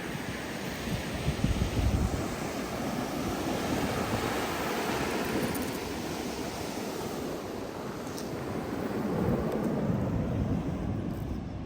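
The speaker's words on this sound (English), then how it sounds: "just sitting here watching the waves" Ocean waves wash steadily onto a Florida beach at Hobe Sound, a continuous broad surf roar with gentle swells and some wind rumble on the microphone, no voices.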